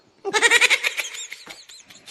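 A sacrificial goat bleats loudly and close by in one long, wavering cry, followed by a few fainter trailing bleats.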